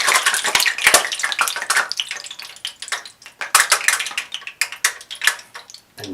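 Funnel cake batter is poured through a funnel, giving a close, continuous splattering, dripping wet rush with uneven surges and a few small knocks.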